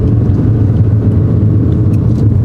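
A car engine drones steadily during a driving lesson, a constant low rumble that is loud and close, with no clear rise in revs and no talk.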